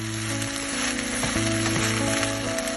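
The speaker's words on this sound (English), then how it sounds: "I'll give that a real quick stir as well" Mixed vegetables stirred in a hot pan for a vegetable rice dish, a steady close sizzle with faint scraping, set against a sustained background tone.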